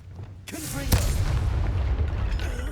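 An explosion from the Confringo spell in Hogwarts Legacy, a sharp burst followed by a loud booming blast that rolls into sustained rumble, with brief voice sounds in the battle.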